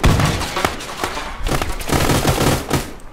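Explosions and gunfire in the ArmA 3 video game after a frag grenade is thrown, a dense run of loud, rapid bursts and booms that keeps going across the whole stretch.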